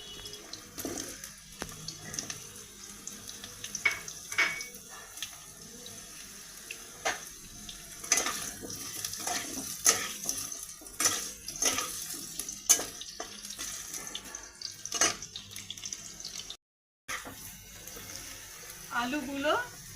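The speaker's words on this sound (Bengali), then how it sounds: "আমি আলুগুলো ভেজে নেব।" Potatoes frying in hot oil in a wok for a pea-lentil fritter curry, a steady soft sizzle with intermittent clinks and stirring scrapes running throughout.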